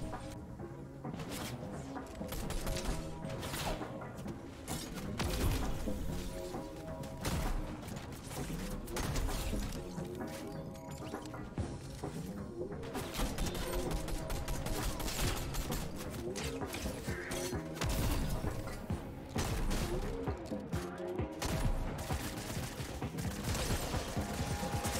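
Dense rapid gunfire rattles through a multiplayer shooter video game, with repeated loud bursts and crashing impacts that keep going without a break, while voices talk over the action.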